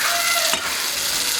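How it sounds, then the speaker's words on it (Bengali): Fish and other ingredients sizzle in a hot pan, a steady bright frying hiss with a brief stir or scrape in the middle, close and continuous with no talking. "তো কষাতে দিয়েছি আমি এগুলা"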